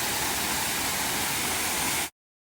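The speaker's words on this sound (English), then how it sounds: "We are at Chapman Falls in Devil's Hop Yard State Park. Cute little waterfall." Small waterfall at Chapman Falls in Devil's Hop Yard State Park, a constant hissing roar of falling water heard up close, steady for about two seconds before cutting off abruptly.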